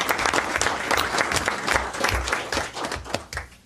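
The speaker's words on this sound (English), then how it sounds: "Let's give them a round of applause." Applause at a city council meeting honoring a youth basketball team after an Ontario Cup win, a vigorous, dense clapping from a roomful of people, steady throughout with scattered sharper claps and no voices over it.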